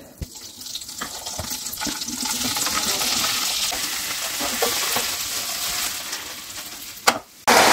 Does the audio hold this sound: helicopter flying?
no